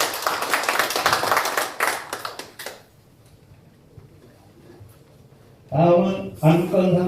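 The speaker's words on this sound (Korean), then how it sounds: "오성조 감사님과 황영훈 감사님께 감사의 박수를 드리도록 하겠습니다." Clapping from attendees at an association chapter's annual general meeting, a loose patter of hand claps mixed with someone speaking over it for a few seconds, then a quiet pause before talk resumes.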